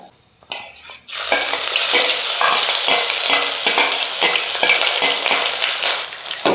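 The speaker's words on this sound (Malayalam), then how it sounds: "ചെറുതായിട്ടൊന്ന് മൂത്ത് വരുന്ന വരെ നമുക്കൊന്ന് വഴറ്റി കൊടുക്കാം" A paste of ginger, garlic and shallots hits a hot pan after a brief quiet moment, then sizzles loudly and steadily while being stirred, with rhythmic scraping strokes close by.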